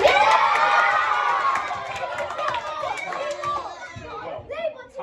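A crowd cheers and shouts for a young girl in a noisy, lively room, with voices and whoops overlapping loudly before thinning out toward the end.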